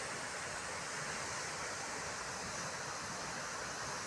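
Water pours over the Gagadiya Dhara falls near the Khodiyar temple in Gir, Gujarat, a dense, unbroken roaring rush that holds steady throughout with no voices.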